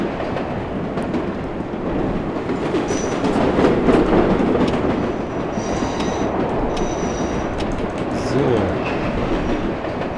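Subway train running in the World of Subways Vol. 4 simulation game: a steady rumbling roll of wheels and motor with rail clatter and brief high squeals, continuous and fairly loud throughout.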